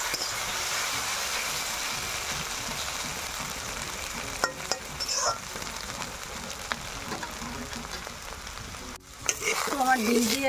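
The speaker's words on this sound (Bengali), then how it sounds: "ডিম দিয়ে আলু ভাজা" Potatoes fried with beaten egg in a wok sizzle steadily with occasional scrapes and stirring clatter, moderately loud and continuous with no talking.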